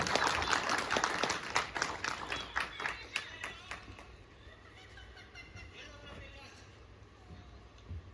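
An audience at a book release event claps loudly and thickly at first, then the applause thins out and fades into low murmuring voices.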